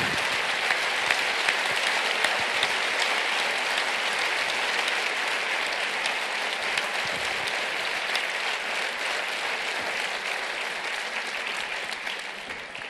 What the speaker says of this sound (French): Je vous demande d'applaudir Sophia Awin